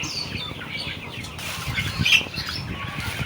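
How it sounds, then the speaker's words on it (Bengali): Sonali hybrid chickens in a large poultry shed give short squawks and clucks over a dense background murmur of the flock, with a brief flurry of louder calls midway. "মুরগির শেড।"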